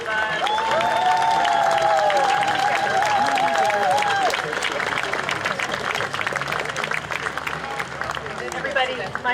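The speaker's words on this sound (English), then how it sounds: "huge round of applause." A crowd at a No Kings protest rally in Palo Alto, California, claps loudly and steadily, with a whistle and scattered whoops rising above the dense applause before it thins into crowd murmur.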